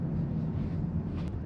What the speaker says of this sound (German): Was man hier hört, ist die Klimaanlage gerade, die hier oben sehr laut rauscht.